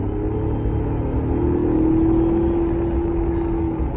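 A 2019 Ford Ranger's four-cylinder engine, paired with a 10-speed automatic, pulls steadily under acceleration, its tone rising gradually into a sustained loud drone with no voices over it.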